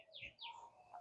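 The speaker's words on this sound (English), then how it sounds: "my yard is filled with strange birds" Several birds in a yard give faint chirping calls, two rising-falling tweets and a shorter call, heard at a distance in quiet surroundings.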